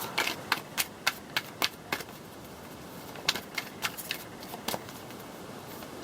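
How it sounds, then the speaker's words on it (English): Tarot cards being shuffled: a quiet, irregular series of crisp, sharp card snaps and clicks, spaced apart with brief pauses, in an otherwise quiet room with no talk. "What say you, cards? I feel I need to keep shuffling."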